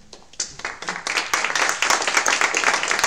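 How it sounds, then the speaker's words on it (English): Audience applause for panelists returning to the stage at a forum, dense clapping that swells from scattered claps into steady, fairly loud applause. "if you can clap all of the panelists back to the stage"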